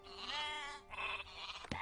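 Sheep bleating in an animated film scene: one long wavering bleat followed by a shorter second call, close and clear, with no speech.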